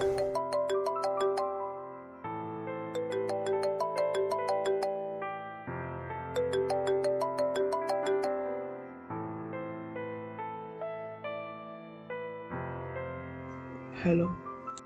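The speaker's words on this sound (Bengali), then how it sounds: "ঠিক সেই মুহূর্তে তার একটা ফোন আসে।" A mobile phone rings with a melodic ringtone, a repeating sequence of bright chiming musical phrases that plays steadily for about fourteen seconds, followed by a brief rustle at the end.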